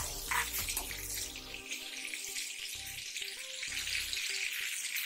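Whole biryani spices sizzling in 50 grams of hot butter in a pan for chicken keema, a bright, close hiss and crackle with bursts of bubbling and stirring, fairly loud and continuous, no voices.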